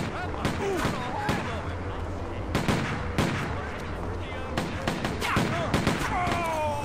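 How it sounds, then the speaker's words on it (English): Rapid gunfire from the zombie video game Stubbs the Zombie in Rebel Without a Pulse, sharp repeated shots over a dense background of game noise and distorted voices, steady and loud throughout. "I shot his arm."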